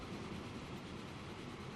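A train rumbles steadily along the track in the railway building game Transport Fever, a dense, even roar with no pauses over a short stretch.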